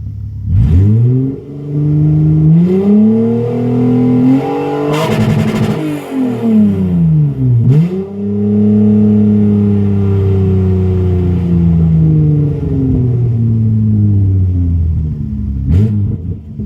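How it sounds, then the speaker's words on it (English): A 1997 Toyota Camry XLE V6 with open headers and no exhaust after the manifolds revs hard several times to redline, a high-pitched scream dropping back to a deep, rumbling idle between pulls, loud and close. "Despite the open headers, considering it has no exhaust right after the two manifolds, it sounds pretty nice"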